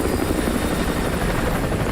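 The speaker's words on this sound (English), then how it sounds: "Chopper inbound. Keep low." A helicopter flies overhead in Modern Warfare 2 Remastered, its rotor thrumming as a loud, steady, close drone for the whole two seconds with no voices.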